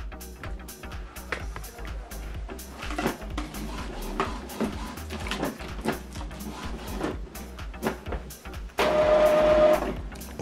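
An Epson WorkForce WF-2950 inkjet printer whirs and clicks through its startup routine, with irregular mechanical ticks and a brief steady whine near the end.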